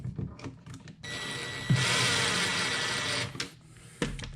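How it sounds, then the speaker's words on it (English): Cordless drill set on a low setting driving soft metal screws into an electrical outlet box: a close, loud motor whir lasting about two seconds, bracketed by short clicks and handling noises. "I got my drill setting on 1 because these screws are soft metals and they will strip really easy."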